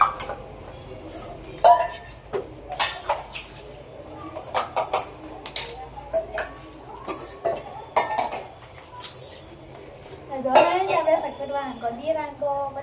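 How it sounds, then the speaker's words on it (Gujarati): Dishes, pots and steel utensils clink and clatter in irregular bursts as they are washed at home, fairly close, with a television and occasional voices in the background. "ચલો હવે આપણે કરી દઈએ ફટફટ વાસણ"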